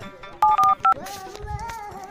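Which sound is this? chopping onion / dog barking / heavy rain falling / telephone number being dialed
telephone number being dialed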